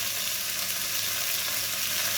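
Meat browns in a hot pan for a ragoût, giving off a dense, steady sizzle with fine crackling throughout, close and uninterrupted.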